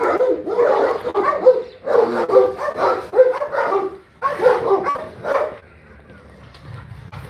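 Dogs barking in a run of loud, close, repeated barks and yips, several rapid bursts separated by short pauses, then a quieter trailing whimper at the end.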